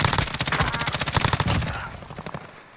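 Rapid automatic gunfire from a video game shooter, a loud rattling burst of closely spaced shots lasting about two seconds before tapering off into quieter echoes.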